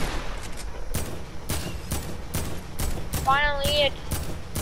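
Rapid bursts of gunfire in a video game, sharp repeated shots in uneven clusters, loud and close, with a voice briefly talking over the shooting.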